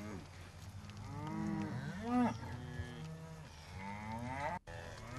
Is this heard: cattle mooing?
yes